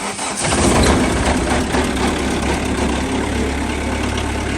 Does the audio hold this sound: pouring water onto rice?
no